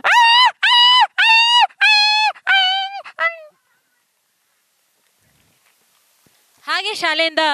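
A voice mimics a dog yelping after being struck hard: five or six loud, high, repeated yelps fading off, a few seconds of silence, then a final strained yelp, performed on stage at an annual day event.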